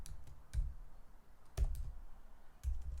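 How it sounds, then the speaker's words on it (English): Typing on a computer keyboard during keyword research: close, soft key clicks in three brief bursts of a few strokes each, with quiet gaps between and no talking. "So as we start typing"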